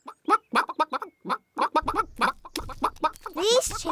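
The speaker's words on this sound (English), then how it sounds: "These chickens don't look dangerous." Cartoon chickens cluck in quick, choppy bursts at a fairy-tale kingdom's farm, a rapid series of close, clipped calls ending with a rising squawk.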